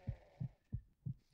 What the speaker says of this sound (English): I need to pay attention to the heartbeat because it kind of tells me how bad my hero is